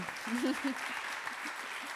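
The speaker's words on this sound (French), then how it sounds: "Vous pouvez les applaudir." Audience applause follows a presentation on the restructuring and energy renovation of a high-rise building in Paris's 12th arrondissement. The clapping is soft and steady, and a voice speaks briefly over it at the start.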